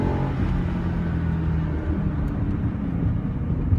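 A BMW E60 M5 engine drones steadily while driving on a gravel-strewn mountain road, a loud, continuous low rumble mixed with road and wind noise, no voices.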